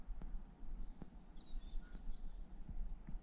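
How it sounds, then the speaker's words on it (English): Faint, thin bird calls drift in from a distance over a low outdoor hum, with a few soft clicks and knocks nearby. "The birds singing."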